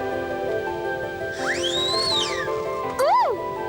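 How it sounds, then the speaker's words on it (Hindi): A signal whistle is blown as a warning, giving a long rising-and-falling tone and then a short sharp chirp over a sustained musical background in an animated scene. "ये एक किस्म की सीटी है"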